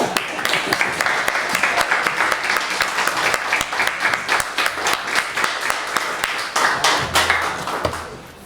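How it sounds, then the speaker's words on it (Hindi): A standing audience gives a sustained ovation for Padma Shri awardee Vidhyanand Saraik, many close, crisp claps pulsing in a loose rhythm before thinning out near the end. "इनके लिए तो खड़े होकर ताली बनती है"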